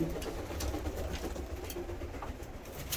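Ornamental birds in a breeder's aviary on a snowy day, soft pigeon-like cooing and scattered calls repeating steadily at moderate distance, with no talk.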